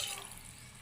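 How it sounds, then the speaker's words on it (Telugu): Water pours into a cooking pot holding a curry of broad beans (chikkudukaya), a steady splashing trickle heard close up with no talk over it. "గ్లాసున్నర నీళ్ళు పోసుకొని మూత పెట్టుకుందాం."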